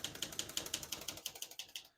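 The carriage return lever on a 1964 Olivetti Lettera 32 typewriter ratchets in a fast, even run of small metallic clicks, faint and close, stopping cleanly at the end.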